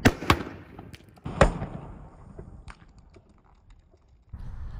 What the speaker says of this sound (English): Okay, so I launched two cans at the Owens Corning.